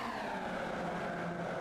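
Formula Vee race cars circle behind a safety car in a steady, dense engine drone, with a continuous roar of several cars packed together and no break in the noise.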